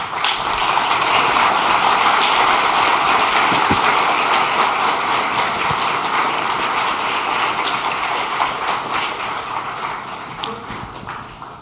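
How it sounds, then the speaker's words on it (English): Sustained applause from a conference audience welcoming a team onto the stage, a dense steady roar of clapping that stays loud throughout and slowly fades toward the end. "let's give them a standing applause"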